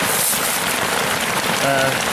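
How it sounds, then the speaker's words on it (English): Rain falling at night on a camp shelter, a dense, loud, steady patter with no pauses, close by, and a voice briefly audible near the end. "and then boom, once again, more rain."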